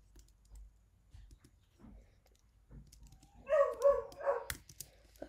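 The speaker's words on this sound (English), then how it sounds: "That's our dog barking in the background." A household dog barks a few times in the background of a quiet room, preceded by soft computer keyboard typing and clicking; the barks come as a short, moderately loud burst near the end.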